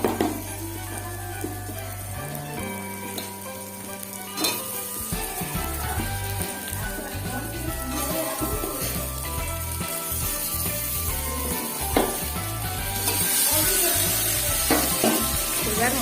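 Cauliflower and potatoes with spices frying in a pan, a loud steady close sizzle with scattered clinks and scrapes of a utensil against the pan throughout.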